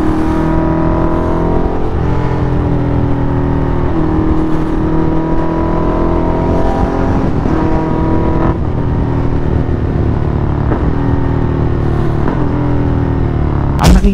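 A big bike motorcycle cruising to a motorcycle expo in the Philippines, its engine a steady, loud droning rumble close up, with repeated shifts in pitch as the rider accelerates and changes gear, no talk over it.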